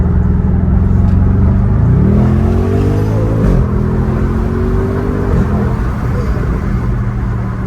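Inside an Audi RS6 C7 with a sports exhaust, the engine hums steadily and then rises in pitch through several gear pulls, a loud, continuous in-cabin drone.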